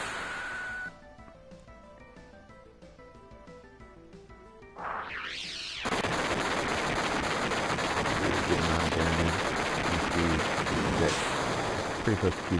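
Rocket attack in a Final Fantasy VII battle against Sephiroth, a musical battle theme giving way to a sweeping launch and then a sustained, loud roar of blasts and explosions.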